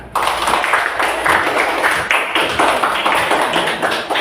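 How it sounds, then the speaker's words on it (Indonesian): Classroom of pupils clapping together in a dense, steady burst of applause that is loud and close, running the full length without pause. "Tepuk tangan."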